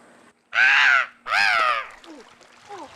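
A human voice imitates a seagull call with two loud, drawn-out squawks close to the mic, followed by a few faint, short chirping calls.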